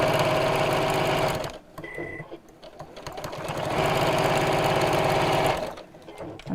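A sewing machine stitches a bag lining and zip in rapid steady bursts, running about a second and a half, pausing, then running again for nearly two seconds, close and loud.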